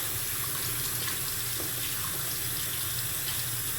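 Tap water runs steadily through a vape coil into a sink, a constant close splashing rush with no pauses and no talking.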